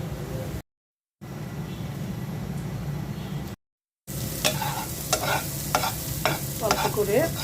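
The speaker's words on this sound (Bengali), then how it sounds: "অল্প করে বুটো ভেজে দিচ্ছি।" A small batch of chickpeas frying in oil for iftar in a home kitchen gives a steady close sizzle, with stirring scrapes and clinks and two brief silent gaps.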